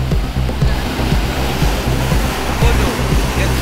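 Rainwater gushing up like a fountain on a flooded city road during heavy rain in Hyderabad, a loud, continuous rushing splash close by.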